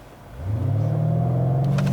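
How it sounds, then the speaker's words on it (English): A 2018 BMW M5 super sedan launching hard under launch control, its engine rumbling low and then surging into a loud, sustained roar that builds steadily as it accelerates, close and alone with no talking. "we're gonna try the launch control on this car"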